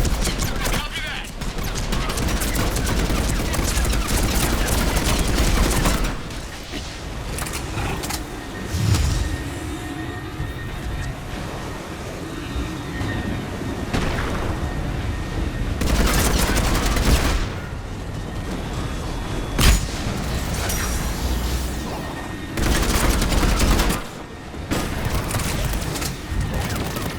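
Cover gunfire in Mass Effect 3 rolls on as sustained, loud bursts of shots and booms, broken by short lulls and sharp cracks, with voices in the background.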